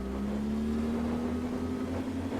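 A Lincoln Aviator's V6 engine drones steadily and close while climbing an offroad slope, its pitch creeping slowly upward as the revs build without a break.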